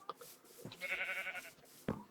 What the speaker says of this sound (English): Past all these other sheep.